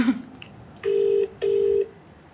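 A phone on speakerphone calls a wife and sounds two steady, evenly spaced electronic tone pulses, each about half a second long, with a short gap between them.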